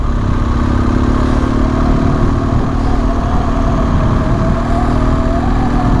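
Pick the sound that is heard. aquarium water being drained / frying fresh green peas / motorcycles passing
motorcycles passing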